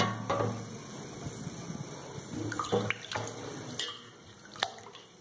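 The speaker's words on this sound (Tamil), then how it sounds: "அடுத்து வேறு ஒரு சட்டியில் தண்ணி எடுத்து வச்சுருக்கேன்." Water in a pot used to wash vegetables such as coconut and eggplant by hand, with close, continuous splashing and sloshing and a few sharper drips and clinks.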